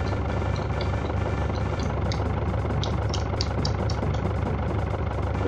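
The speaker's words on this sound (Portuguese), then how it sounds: "É a fase do trator." Tractor engine in a Kamen Rider video game stage, a steady low rumbling drone with light rattling clicks on top, continuous and unvoiced.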